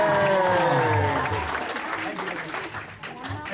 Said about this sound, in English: give a big round of applause for Pastor Mark Taylor.